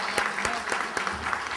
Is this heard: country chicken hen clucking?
no